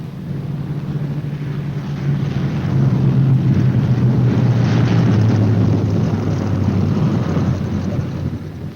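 Several B-17 Flying Fortress bombers arriving home at a wartime airfield, some with damaged or dead engines: a steady, loud droning roar of piston engines that swells slightly midway and holds, with no talk.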